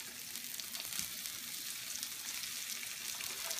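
Spring onions go into a frying pan for vegetable chow mein, giving a soft, steady sizzle close by with faint stirring scrapes and no talking.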